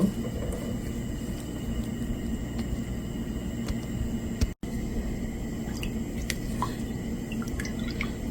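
Sugar-free apple milk pudding is stirred continuously in a pot, making a steady run of soft wet squelches and small drips close by, with a brief dropout midway.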